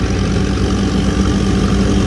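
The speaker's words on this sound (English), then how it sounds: "that tractor's doing a lot better than it did last year" A tractor engine rumbles loud and steady at a tractor pull, a thick continuous low drone with no voices over it.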